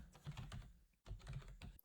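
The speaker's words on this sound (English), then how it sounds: "I just typed in a sentence, basically to show that I'm in the OneNote app, typing in this notebook" A sentence being typed on a computer keyboard, two quick bursts of close, soft key clicks separated by a short pause.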